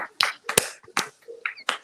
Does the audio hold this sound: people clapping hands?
yes